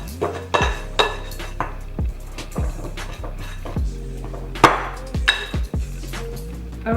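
A spoon scrapes and clanks against a bowl while strawberry chocolate chip cookie dough is stirred, giving a loose run of close, sharp clinks and knocks with no talk.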